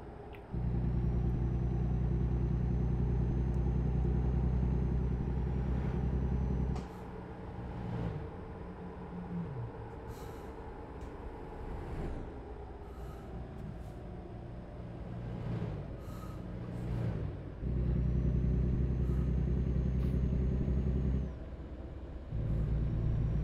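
A vehicle on a road between Burlington, Colorado and Garden City, Kansas rolls along slowly with a low steady engine drone, easing off partway and then returning, with faint brief clicks and hiss over the rumble.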